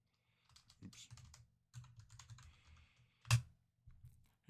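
Keys tapped on a computer keyboard while entering a terminal command, short bursts of soft close clicks separated by pauses, with one louder keystroke near the end.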